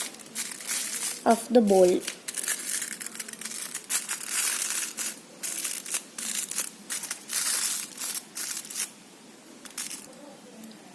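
Aluminium foil, shiny side out, crinkles and crackles as it is pinched and crumpled around the top of a bowl for a chocolate lava cake, in bursts of close rustling with a voice talking over it.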